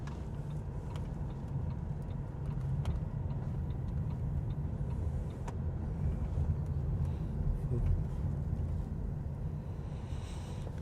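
Steady road traffic noise from modern Chinese-made electric cars on a street in Shenzhen, China, a continuous low rumble of tyres and passing vehicles with faint ticking, no talking.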